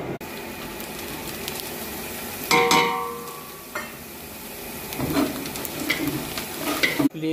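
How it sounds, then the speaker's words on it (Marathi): A large pot of onion and tomato gravy, made in bulk for a hotel, bubbles and sizzles as it is stirred, with a scraping burst, soft simmering pops and a clatter at the end, close by and with no talking. "आपली ग्रेव्ही आत्ता उकळी आली आहे बऱ्यापैकी"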